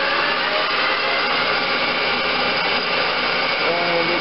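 A Denford Viceroy lathe converted to run on a variable frequency drive hums and whirs with a steady, even mechanical drone. The sound holds constant throughout, with no speech over it.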